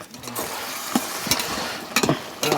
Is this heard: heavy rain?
no